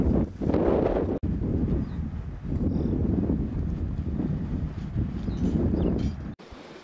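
Strong wind buffets the microphone in a steady roar with gusty swells on a Lapland fell in late June, briefly cutting out before continuing.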